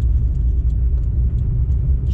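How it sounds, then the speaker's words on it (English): An old Russian Zhiguli car's engine idles nearby, a steady low rumble with no one speaking. "Russian car Жигули."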